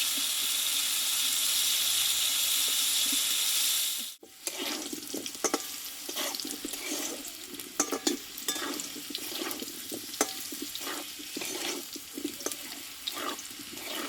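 Thick-cut potatoes sautéing with turmeric and salt in a pan, a steady tap-like rush giving way after a few seconds to scattered stirring scrapes and clinks over a soft, continuous sizzle.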